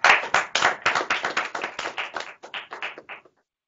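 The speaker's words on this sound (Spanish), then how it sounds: "Un aplauso." A small group claps in rhythm for about three seconds, crisp and close, then stops dead into silence.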